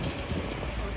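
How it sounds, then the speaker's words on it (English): Strong wind blowing outdoors at a ski resort under construction in Bukovel, Ukraine, a steady broadband rush with low buffeting on the microphone throughout the brief moment. "And it is very windy outside."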